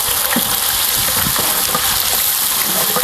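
Minced ginger and garlic frying in hot oil on a wood-fired village stove for a big batch of mutton curry: a loud, steady, dense sizzle that hisses continuously with faint crackles throughout.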